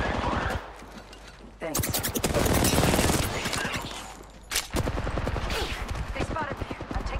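Bursts of video-game gunfire from a competitive shooter firefight crackle loudly in two dense volleys, the first lasting about three seconds and the second shorter, with voice chat talking over the quieter stretches.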